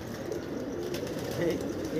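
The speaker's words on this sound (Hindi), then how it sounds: "66 कबूतर चल रहे हैं भाई इकट्ठे" A flock of about sixty-six pigeons moves together, giving a steady bed of low cooing and rustling at moderate distance, continuous throughout with no clear break.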